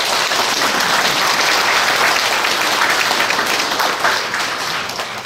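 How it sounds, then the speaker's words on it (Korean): A church congregation at a confirmation Mass gives a big, dense round of applause that stays steady and loud throughout, then begins to fade slightly near the end. "벼량동 본당 교우 여러분께 큰 박수를 보내드리고 싶습니다."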